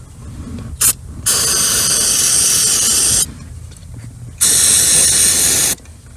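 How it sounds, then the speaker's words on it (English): Contact cleaner aerosol sprayed onto stuck electrical parts of a flood-damaged 2008 Porsche Cayman S, in two long loud hissing bursts of a few seconds each, with a quick short spurt first. "I have some contact cleaner here."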